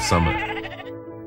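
A single sheep lets out a loud, close, wavering bleat during the autumn sheep gathering in Iceland. A brief word of speech overlaps the start.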